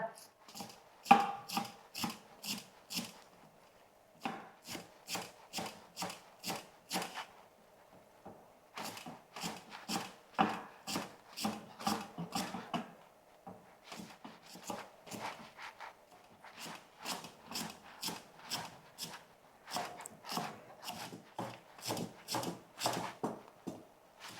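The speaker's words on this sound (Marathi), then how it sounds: "कोथिंबीर मी इथे बारीक चिरून घेतलेली आहे" A knife chops finely through fresh coriander leaves on a cutting board, with quick, steady strokes in bursts broken by short pauses, close and clear with no talk.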